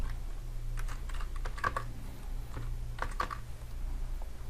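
Keys on a computer keyboard are typed in short, irregular bursts of close clicking over a low steady hum, with no voices.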